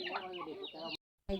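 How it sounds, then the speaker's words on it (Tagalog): Chickens cluck around a farm coop, a dense run of overlapping calls for about a second. Then comes a short silence and a brief burst. "ay diri Papalori nga manukan"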